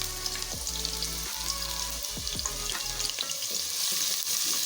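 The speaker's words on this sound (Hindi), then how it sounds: "इसको हल्का सा फ्राई करेंगे।" Onion frying in two cups of oil for aloo gobhi, a bright continuous sizzle with stirring clatters and low hum from the stove, no voices over it.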